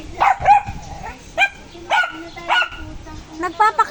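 A black pet dog named Oreo gives short, repeated barks and yips in a bright, close series, with soft whimpers between them and people talking nearby.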